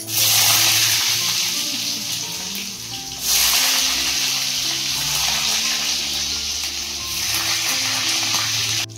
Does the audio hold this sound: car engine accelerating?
no